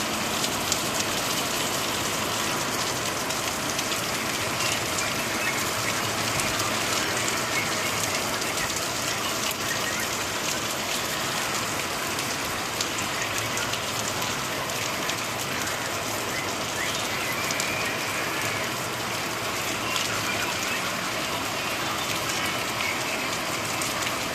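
Heavy unseasonal rain pours steadily in Vav-Tharad district in late December, a dense, continuous hiss of downpour striking surfaces with no pauses and no voices.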